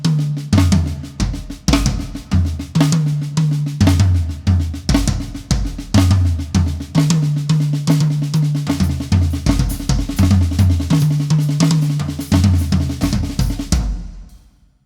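Drum kit playing seven-note groupings with a flam on the first note: fast, dense strokes in a repeating pattern with recurring tom accents, close and loud, ending with a fading ring.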